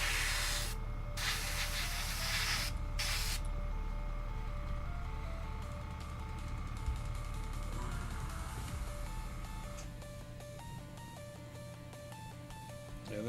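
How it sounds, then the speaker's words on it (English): Airbrush spraying paint on a model kit of a McLaren F1 or Kenworth truck, a steady close hiss running throughout with short breaks, beneath faint background tones. "But out of the bottle, this stuff actually airbrushes pretty well."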